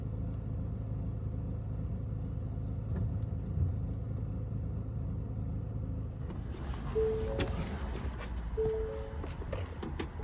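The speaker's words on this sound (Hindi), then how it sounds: "traffic jam" Traffic jam on a rainy day, heard from inside a car: a steady low engine and road rumble throughout, with a faint higher hiss and a few short horn-like tones from nearby vehicles toward the end.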